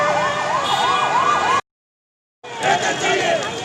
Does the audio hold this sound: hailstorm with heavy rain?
no